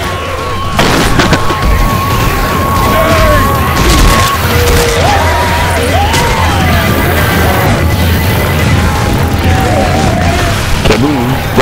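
A grenade explodes during Left 4 Dead 2 co-op play on the Dark Carnival campaign, giving a loud, dense boom within sustained chaotic game noise, with thin whistling tones and players talking over it.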